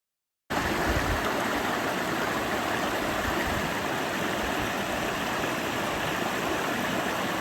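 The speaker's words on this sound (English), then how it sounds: "discovered he loves small waterfalls" Steady rushing water from a small waterfall in Italy, constant and fairly close, filling the whole stretch after a brief silent start.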